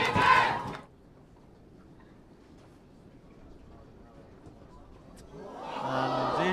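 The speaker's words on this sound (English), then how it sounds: "you can hear almost the shock in the reaction of the crowd at that" A rugby stadium crowd at a women's international between Ireland and England gives a short roar that quickly drops to a murmur, then swells again as a commentator speaks.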